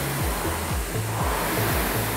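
Rowing machine pulled hard through a low-impact full-body workout, its flywheel rushing in a steady loud whoosh that surges with each stroke in a regular rhythm, close and continuous with no voices.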